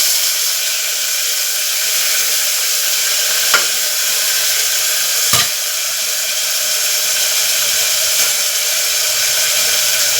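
Onions, tomato and mint fry in hot oil with a steady, close sizzle, broken by a few sharp stirring scrapes against the pan.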